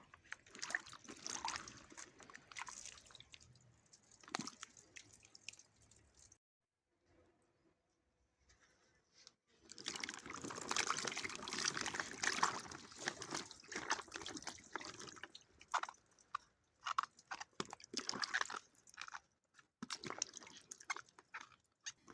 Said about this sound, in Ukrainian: А далі в чистій воді промиваємо гарні, непошкоджені тільки що з дерева